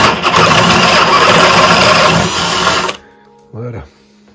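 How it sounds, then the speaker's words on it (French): A drill bores into the solid walnut top of a Roubo workbench with a loud, buzzing whir for about three seconds, then stops abruptly. A short spoken phrase follows. "Allez, on perce."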